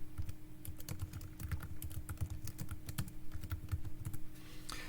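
Fast typing on a computer keyboard, a close, steady patter of key clicks in quick bursts, with no voice over it.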